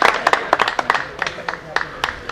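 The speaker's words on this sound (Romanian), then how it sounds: "Vă rog să o aplaudați și să o încurajați." Audience applause at a book launch, a short burst of scattered clapping from a small crowd, heard close and moderately loud.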